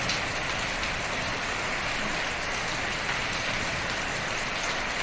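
Heavy rain pouring during a cyclone storm at night, a dense, continuous roar of rainfall on surfaces with no pauses, steady and enveloping.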